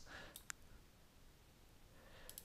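A computer mouse being clicked while working in Excel, a couple of sharp faint clicks in a quiet room, with a few softer taps near the end.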